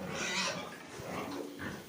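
Pigs grunt in a pigsty during disinfection, a low rough rumble of several animals that runs steadily through the moment, close and moderately loud, with a broad hissing noise over it.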